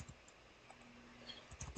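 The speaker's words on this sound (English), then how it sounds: "press MM on my keyboard" Keys pressed on a computer keyboard while entering a shortcut in Revit design software, a few quiet clicks near the end over a faint room hum.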